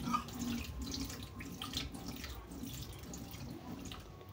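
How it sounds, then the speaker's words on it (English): Boiled greens are wrung out by hand over a sink, giving a faint, continuous trickle of water with small drips and splashes and no voices. "So I'm going to go ahead and squeeze the water."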